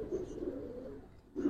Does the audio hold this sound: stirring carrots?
no